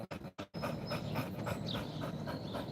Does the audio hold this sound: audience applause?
no